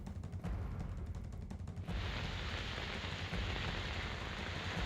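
Heavy, steady rain pours down in Thane near Mumbai, a dense continuous hiss close by that grows louder and fuller after the first two seconds, with no voices.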